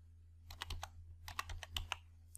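Quiet, close keystrokes on a computer keyboard while entering an Excel formula, with two quick bursts of several clicks separated by a short pause.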